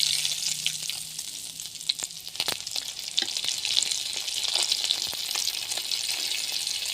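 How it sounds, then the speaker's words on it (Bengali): A chicken donut frying in hot oil while held on a spoon, a soft continuous sizzle with scattered sharp pops and light spoon clinks, fairly quiet and with no talking. "আমি যেভাবে চামচের উপর ভাজবো।"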